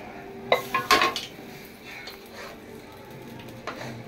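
Chicken biryani being mixed in a pot, meat and rice stirred together with a metal spoon: several sharp scraping clanks close up in a quick cluster, then quieter intermittent scrapes and a faint sizzle underneath.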